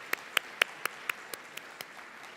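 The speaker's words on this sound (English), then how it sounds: "So please join me in clapping the hand." Audience at an international local production forum breaking into applause, heard as a sparse run of distinct hand claps about a quarter second apart, gradually thinning and fading over a couple of seconds, moderately distant in a large hall.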